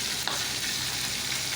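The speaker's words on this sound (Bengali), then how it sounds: "অপর সাইডটিকেও ভালোভাবে ভেজে নিতে হবে" A piece of fish fries in a pan with a dense, steady hiss of hot oil and one small knock early on, brief and close with no voices.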